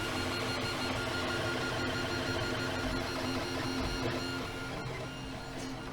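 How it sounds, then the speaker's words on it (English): A 3D printer prints the top plate for a cinewhoop drone, its stepper motors whirring and buzzing steadily at close range with small shifts in tone as the head moves, and no one speaks. "Printing out the top now."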